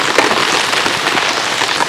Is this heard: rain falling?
yes